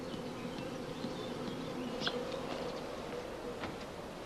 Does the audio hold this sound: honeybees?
yes